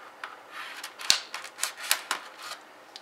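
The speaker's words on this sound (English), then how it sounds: "so I got my scissors just to cut into this." Scissors snip through the plastic packaging of a SteelSeries Diablo 3 Witch Doctor mouse pad, giving a quick string of close, crisp cuts and rustles with no talking.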